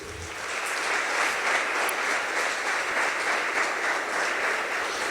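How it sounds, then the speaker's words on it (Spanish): A church congregation breaks into applause during a family spirituality sermon, a dense, even roar of clapping that rises quickly after a brief quiet start and holds steady, loud and close. "Pues dele palmas al que vive."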